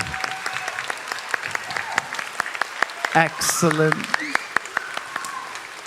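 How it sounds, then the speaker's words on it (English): At an elementary school's end-of-year assembly, scattered applause of sharp, uneven claps carries on while someone speaks briefly over it. "Keep clapping. She didn't make it yet."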